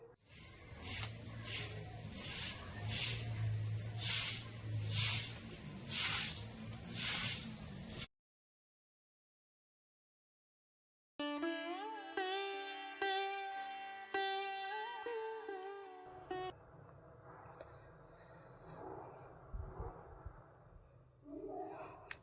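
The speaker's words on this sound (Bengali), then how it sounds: "তো চলো আমি এখন ঝাড়টা দিয়ে দিই।" A broom sweeps the floor of a home with rhythmic scratchy brushing strokes, close and fairly loud, followed after a silent gap by other indoor sounds.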